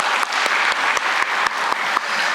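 A church congregation applauds its choir during an early-morning dawn prayer service, steady clapping with a few sharp individual claps standing out at regular intervals across the short burst.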